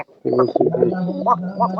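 A pigeon coos in its home coop, a close, loud, continuous warbling throaty call lasting under two seconds, alone and without talk.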